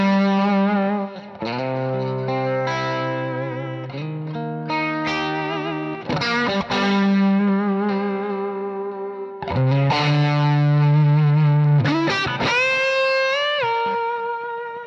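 An electric guitar plays through a BluGuitar AMP X with heavy distortion, sustaining long notes and chords with pitch bends. The tone is loud and continuous, with short breaks and swells between phrases, and no voice is heard.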